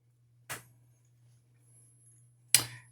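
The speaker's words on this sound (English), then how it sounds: "I'll just come in and snip out those butt ends" Two crisp snips of scissors trimming thread butt ends while tying a Peacock Caddis dry fly, spaced about two seconds apart, close and clear over a faint steady hum.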